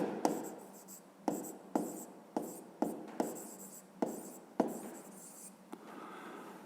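Writing by hand, in a physics lesson, makes quiet close scratchy strokes with about ten distinct pen-on-paper scrapes in an irregular rhythm and no talk.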